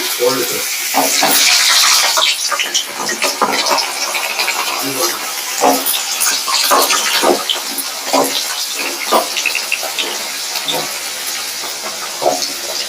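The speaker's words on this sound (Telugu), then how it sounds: "ఇట్లాగా మూడు వంతులుగా చేసుకుని ఇలాగ ఉసిరికాయలని వేపుతున్నాను" Indian gooseberries (amla) fry in hot peanut oil, giving a loud hissing sizzle that slowly fades into crackling bursts and pops, while someone speaks over it.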